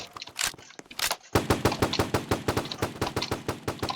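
Rapid bursts of automatic gunfire in a Fortnite-style Roblox game, loud and close, a short volley followed by a long sustained stream of evenly spaced shots.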